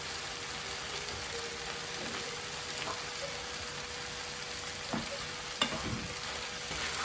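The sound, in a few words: carrots added and stirred into frying beef patty filling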